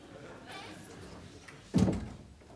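A single dull thump against a door, knock-like, sounding once at mid-distance in a quiet indoor room after a faint murmur of background voices.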